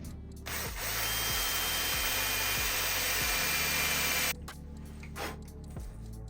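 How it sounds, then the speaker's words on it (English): A power drill bores a hole through a bike frame's hanger, running in one loud continuous whirring burst of about four seconds with periodic grinding catches, then stopping and leaving a few brief metallic clicks. "I'm going to tap a hole through here with the drill"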